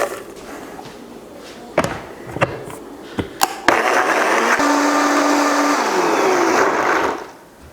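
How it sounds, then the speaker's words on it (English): A Vitamix blender spins up to rehydrate freeze-dried split pea soup with water, a loud steady motor whir lasting several seconds and then winding down, preceded by a few sharp knocks and thumps. "I want to try and rehydrate inside of the Vitamix with some water"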